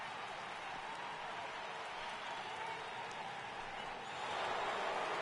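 The Petco Park home crowd in the baseball video game MLB The Show 18, Giants against Padres, forms a faint, even wash of applause and crowd noise that swells slightly toward the end.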